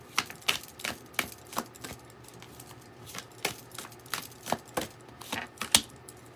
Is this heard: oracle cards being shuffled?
yes